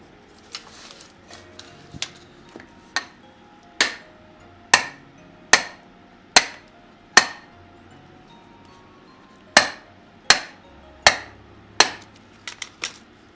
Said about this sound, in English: So I might try just hammering this through first, see what happens.